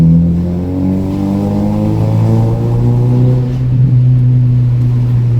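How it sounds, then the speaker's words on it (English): A car engine drones loud and close while driving through a village, its revs rising and falling in a rich, steady exhaust note with a brief crackle partway through. "This car gets some real nice pops. I forgot how nice this car actually flipping sounds."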